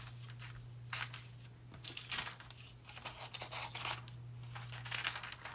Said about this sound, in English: but I'm going to cut them out first